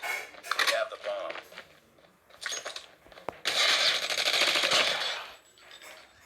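Video game gunfire comes in rapid automatic bursts of sharp cracks, some short and some sustained, close and loud, with a voice talking between the shots.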